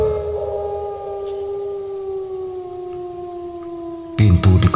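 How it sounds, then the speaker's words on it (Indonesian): A distant dog's howl, used as a horror story sound effect, draws out as one long, steady wail that slowly sinks in pitch before a short burst of clatter cuts in at the end. "Sayup-sayup lolongan anjing terdengar."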